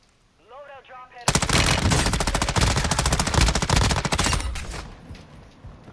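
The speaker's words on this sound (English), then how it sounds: "Someone shooting at me." Sustained automatic gunfire in a first-person shooter game, a loud rapid burst of shots lasting about three seconds before tapering off, preceded by a brief voice and quiet background.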